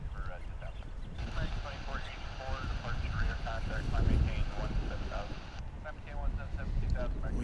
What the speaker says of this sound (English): Like this Airbus A320 headed off to McAllen, Texas, in South Texas.